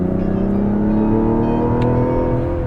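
A Mazda CX-70 crossover driving on a Midwest road, its engine drone steady and rising gently as it accelerates, heard close and continuous with no talking.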